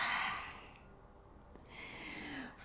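A slow, deep yoga exhale during a gentle cooling-breath practice, a soft breathy rush that starts fairly strong, fades through the middle and swells again near the end, heard alone without talk.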